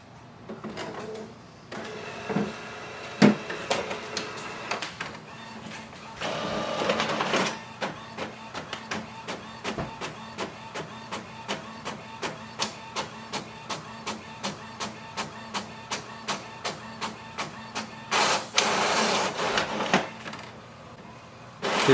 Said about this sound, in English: to print a document, you select a page or document you want to print.